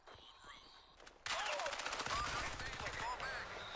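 Rapid automatic gunfire from a Crysis 3 multiplayer match in Crash Site mode on the Airport map erupts loud and dense after a quieter opening, with sustained bursts and scattered whistling effects filling the rest of the moment.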